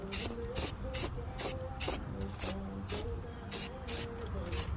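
A boat trailer is spray painted in repeated short bursts, each a loud close hiss with brief pauses between, carrying a faint mechanical tone underneath.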